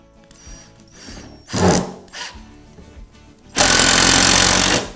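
Power tool driving fasteners to attach a mounting plate to a wooden packer, a Rockwell BenchJaws clamp being assembled: short mechanical whirs and knocks, then a long loud continuous drilling burst near the end.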